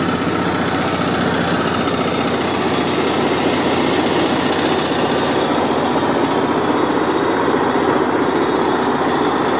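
An RV engine idles steadily, a loud continuous rumbling drone with an even mechanical churn that holds without change from start to finish, with no voices.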